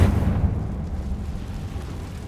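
A Confringo fire spell blast from the Hogwarts Legacy game erupts as a heavy, rumbling low-end boom at the start, then settles into a sustained deep roar that lingers for a couple of seconds with no talking.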